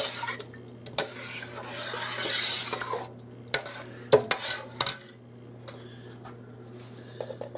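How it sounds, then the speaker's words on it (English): A spoon stirs homemade Italian tomato sauce in a pot, giving irregular metallic clinks and scrapes against the sides, with a soft swishing stretch in between; close up, with no voices. "Give this a stir."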